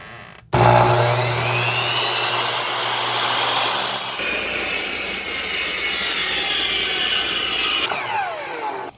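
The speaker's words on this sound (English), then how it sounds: "So we're getting ready to make the first cut for the walls for our new house." A power saw rips through a board for house wall framing, making a loud, close and sustained whine that shifts pitch partway through the cut before winding down.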